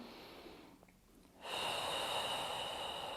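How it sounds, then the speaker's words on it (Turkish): A woman doing a birth preparation exercise while awaiting a home birth draws one long, loud breath close to the microphone, a steady breathy rush following a brief quiet pause. "Burada nefes alıyorum"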